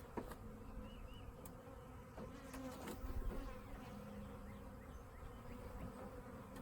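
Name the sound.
bees and a wasp buzzing inside a beehive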